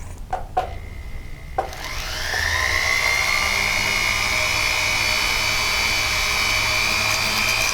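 A powered polishing wheel buffs stamping scratches off a stamped metal blank: a few sharp clicks and taps, then the motor spins up into a steady, close, high whine with ringing overtones that holds unbroken to the end.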